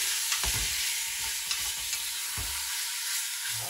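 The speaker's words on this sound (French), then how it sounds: "je fais revenir ma viande pour bien la faire cuire sur toutes les faces" Beef pieces browning in a cocotte for bœuf bourguignon, a continuous near sizzle broken by scrapes and thumps of stirring, with no voices.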